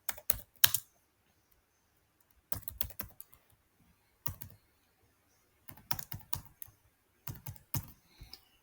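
Card details typed on a computer keyboard, close, quiet clicking in short bursts separated by pauses, with no talking.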